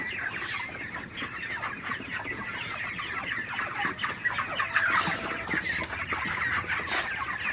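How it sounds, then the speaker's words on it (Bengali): A large flock of 32-day-old broiler chickens clucks and chirps inside a farm shed, a dense, continuous chatter of many birds at once, close and steady throughout. "মুরগিগুলা কিন্তু তাড়াই দিতে হবে ভালোভাবে যাতে সব জায়গায় মুরগিগুলা আসলে সমানভাবে ছড়িয়ে ছিটিয়ে থাকতে পারে।"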